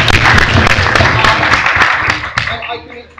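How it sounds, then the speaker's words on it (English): A debate audience claps for a speaker, a loud burst of close applause that thins out and fades toward the end, with a voice talking over it. "Or you can clap for George now."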